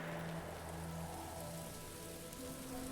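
Steady rain in the video game Book of Hours, a dense even hiss that holds at the same level throughout, with a few faint low tones sustained underneath.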